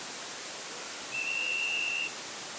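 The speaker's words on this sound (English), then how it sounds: "And Medina going to get whistled for a foul" A referee's whistle blows for a foul during a high school boys soccer match: a single steady, shrill blast lasting about a second, heard over constant broad outdoor hiss.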